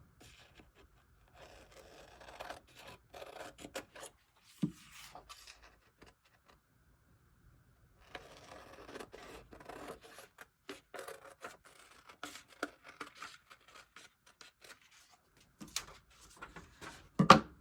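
Scissors trimming the paper or card exterior of a handmade 1887 Kate Greenaway-style mini book, faint crisp snips and scraping in short bursts with quiet pauses between them.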